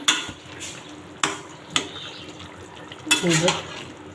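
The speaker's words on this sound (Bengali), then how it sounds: "তো গাইস ভালোভাবে কষিয়ে নিলাম" A spoon scrapes and clanks against a cooking pot while spicy chicken and potatoes are stirred, with a few sharp metal knocks separated by pauses and then a wetter stirring burst, close and clear.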